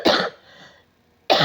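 A single sharp, close cough bursts out, trails off into a quiet breath, then a second cough begins at the end, loud and unaccompanied by speech.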